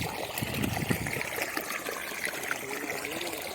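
Irrigation water trickles and flows steadily in a shallow field channel on a farm, a continuous gentle babbling with no one speaking.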